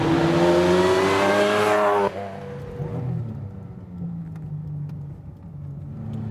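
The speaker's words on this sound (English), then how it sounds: "It revs up just as quickly as I remember." A supercharged Toyota 2GR V6 engine in a Lotus revs hard, holding a loud rising whine, then drops abruptly to a lower idle rumble with a faint whir.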